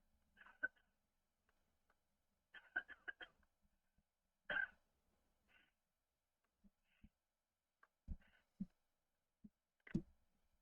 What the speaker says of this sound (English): someone sniffling and then coughing.